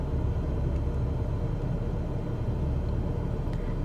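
Light aircraft on a controlled landing at runway 3 after an RNAV approach, a steady low engine drone and rumble holding level throughout with no talk.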